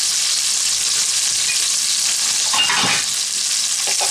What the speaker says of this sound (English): So I'm going to give this a couple minutes to get a nice brown on it